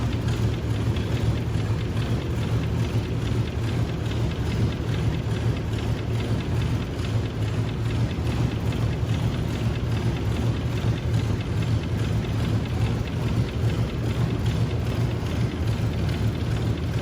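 A Helicron propeller-driven car idles in a motor museum, its engine and propeller blending into a steady, even, low mechanical drone that holds unchanged from start to finish.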